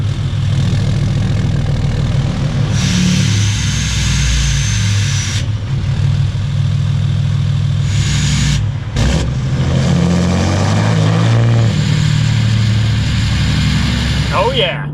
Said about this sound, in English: We got the exhaust brake on. If you guys heard in those exhaust clips, it makes outstanding sounds.